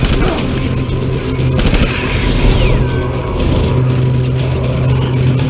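Gunfire in Death Stranding on PS5, a dense rattling fusillade of shots over a steady rumbling background, loud and continuous with some speech mixed in.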